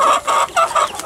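Farm chickens cluck close by in short, repeated bursts, several quick calls in about a second.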